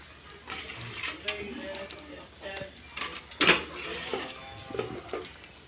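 Onions frying in a pan with cardamom, cinnamon, bay leaves and raisins, a soft steady sizzle broken by scraping and stirring clinks, some sharp metallic scrapes, with faint background sounds.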